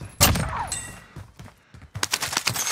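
Gunfire in the shooter game Call of Duty: Modern Warfare: loud, close shot bursts open the clip, a quieter stretch of scattered thuds follows, then a renewed volley of rapid shots rattles on to the end.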